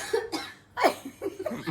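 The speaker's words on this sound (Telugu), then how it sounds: "దగ్గు ఒకటి" A person coughing, several short bursts with brief pauses between them, close and moderately quiet, with no talk.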